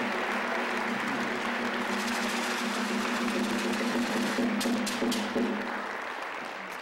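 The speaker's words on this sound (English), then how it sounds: "we should give him a very warm round of applause" A room of people at a community forum gives a warm round of applause, steady clapping at moderate distance that carries on for several seconds before tapering slightly, with a low background hum.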